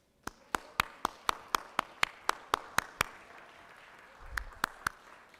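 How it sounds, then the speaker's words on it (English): Slow, sparse applause in a state legislative chamber: a dozen or so distinct, evenly spaced claps ringing out in a quiet room, with a brief murmur near the end. "let's give them a round of applause"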